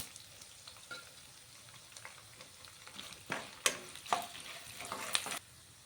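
Urad dal, coriander seeds and cumin frying in oil as a tempering, a soft, faint sizzle that swells into a few louder crackling bursts toward the end, with no voices.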